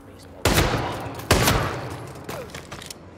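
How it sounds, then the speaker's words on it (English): Gunshots in the video game Hitman: two sharp, loud reports in quick succession, each followed by a decaying echo, then a fainter third burst with a brief ringing tail. "Did you guys hear a gunshot?"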